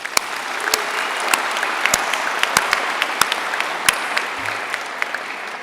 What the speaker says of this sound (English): Let's have a round of applause again